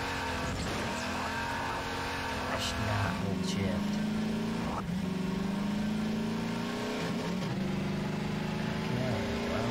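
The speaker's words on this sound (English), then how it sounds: "This car is loud." A loud car engine in Garry's Mod revs and drones continuously near the listener, rising and falling in pitch through gear changes, with tyre squeals and someone talking over it.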